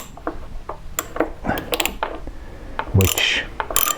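Ratchet wrench working 10mm bolts on a Tohatsu 9.8hp two-stroke outboard motor: short, close clicking ratchet strokes and metallic taps in quick irregular bursts, with a brief clank near the end.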